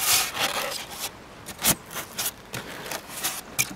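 A slab of insulation is dropped onto a beehive and pushed snugly into place, making soft scraping, rubbing and brushing sounds in uneven bursts; close and fairly quiet, with no talk.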